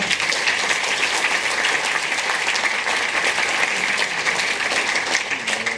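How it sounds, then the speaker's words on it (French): Audience applause for the jury at the closing ceremony of the Strasbourg European Fantastic Film Festival 2022, a steady dense wash of many hands clapping that holds evenly throughout, with no talk over it. "on les applaudit quand même tous les trois"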